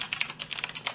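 Quick, irregular clicks of a computer keyboard being typed on, close and fairly soft, with no voices over them.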